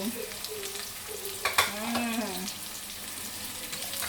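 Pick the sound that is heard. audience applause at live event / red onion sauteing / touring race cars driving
red onion sauteing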